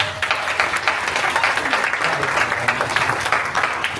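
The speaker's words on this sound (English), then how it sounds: "Can we give her a big round of applause?" A classroom audience applauds a student presenter during a presentation on the American Revolution, a steady patter of many hands clapping close by for about four seconds, with a few voices faintly mixed in.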